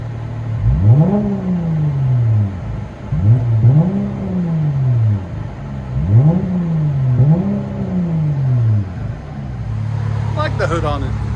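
Straight-piped 2021 Dodge Charger GT V6 heard from inside the cabin, four rhythmic rev blips rising and falling over a steady idle drone, fairly loud, ending with a short clatter.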